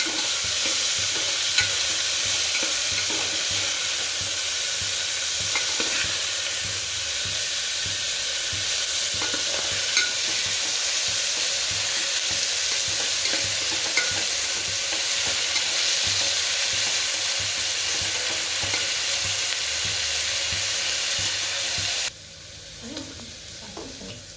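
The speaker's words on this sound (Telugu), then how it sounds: "ఇవి బాగా వేగాలి ఫ్రెండ్స్." Chopped vegetables for khichdi fry in a pan with a dense, steady hiss and crackle, close and loud, with faint stirring scrapes. The sizzle drops off sharply near the end.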